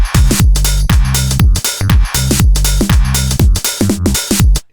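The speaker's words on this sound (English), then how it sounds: "Bass sounds like this with the drums." Funky synth bass from a Korg Triton Digi Bass 2 patch plays a bouncy, repeating line locked to a loud drum groove for a Y2K house track, kicks and hats punching steadily throughout with no voices.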